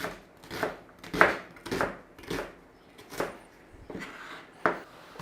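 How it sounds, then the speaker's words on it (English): A knife cubes an onion on a board, with about eight crisp, close chops coming in an uneven rhythm and separated by short pauses. "Now I want to cube this onion"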